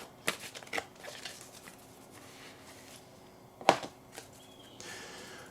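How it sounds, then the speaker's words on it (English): Hands shuffle a fairy oracle card deck in a quiet room, producing a few sharp riffling bursts and soft sliding shuffles with pauses between, close and clear with no talk. "Let's go ahead and shuffle and gain a little knowledge and insight from this deck."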